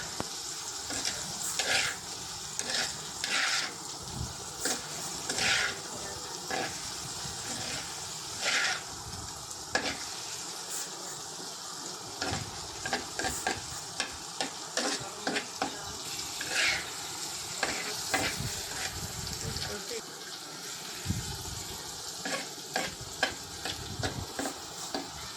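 Okra frying in a pan while being stirred continuously, giving a steady hiss of sizzling broken by repeated scraping and clinking of the spoon against the pan, fairly quiet and without talk.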